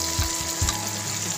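Tomatoes sautéing in two tablespoons of hot cooking oil in a preheated pan, a steady close sizzle with a couple of louder bursts and stirring scrapes early on.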